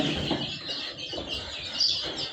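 Chickens, spotted and black parent-stock birds, cluck on a poultry farm in a busy mix of calls, soft clucks and rustling at moderate distance.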